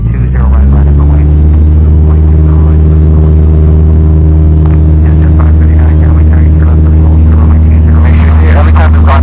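A small training airplane's propeller engine runs steadily at full power, a loud continuous drone with a strong low hum throughout, with faint radio-style voices underneath.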